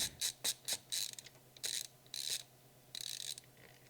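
Small screws on an Asus ROG Strix G15 gaming laptop being backed out with a Linus screwdriver, giving bursts of quick, close ratcheting clicks in short repeated runs with brief pauses between.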